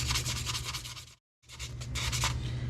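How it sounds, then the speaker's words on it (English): Hand sanding a rusty, corroded gun part in steady back-and-forth rasping strokes, close and fairly loud, with a brief pause midway before the scraping resumes. "I can't sand the whole surface at any one time, so I'm having to go back and forth"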